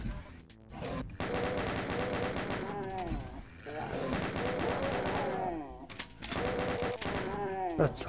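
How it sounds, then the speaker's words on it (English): Rapid chaingun fire from the Doom II: Requiem mod on Ultra-Violence, a dense sustained rattle of shots with brief gaps, mixed with game noise and other weapon and monster sounds. "That's a lot of chain guns."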